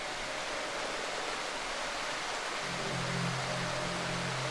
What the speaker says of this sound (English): that creepy ambient music is very hard to hear over the rain right now